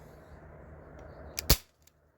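An Umarex Brodax BB pistol, a Glock 19 Gen 3 style running on an Air Venturi HPA adapter, fires one sharp, loud pop. Faint mechanical clicks come just before and after it over a quiet room.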